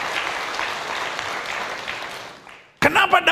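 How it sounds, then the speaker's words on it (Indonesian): Congregation applauding during a church sermon, a steady wash of many hands clapping that fades out before a preacher's voice cuts back in. "Berikan tepuk tangan yang meriah buat"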